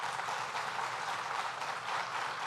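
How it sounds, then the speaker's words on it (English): An audience at a government announcement event gives a brief, dense round of applause, with steady clapping sustained at an even level throughout. "Let's give him another round of applause."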